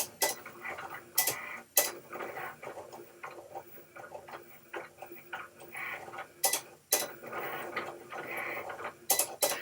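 Vinyl cutting machine cutting letters for pantry bin labels, a quiet ticking and whirring mechanism with a rhythmic pattern of small clicks and several sharp louder clacks, close and steady with no talking.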